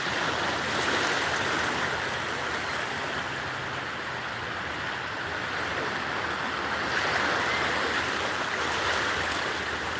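Steady wash of waves breaking on a beach, a continuous broad roar with gentle swells, heard alone without voices.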